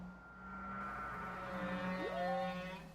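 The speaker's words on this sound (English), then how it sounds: "Sounds like a whale." A whale vocalization: a sustained low tonal hum with a layered drone, ending in a rising whooping glide, moderately loud and with no talking over it.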